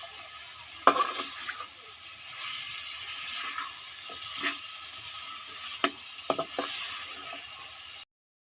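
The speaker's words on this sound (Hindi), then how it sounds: "सब्ज़ी को अच्छी तरह मिक्स करके 5 से 7 मिनट भून लेंगे" Tinda (round gourd) frying with masala in a village-style kitchen, a faint steady sizzle with occasional scraping and clinking stirring strokes.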